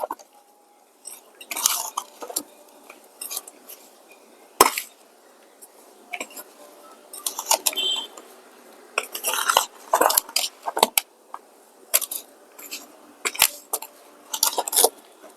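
Potting soil is mixed by hand with compost, neem cake and a handful of sand, producing close, irregular bursts of gritty scraping and rustling with short pauses between strokes.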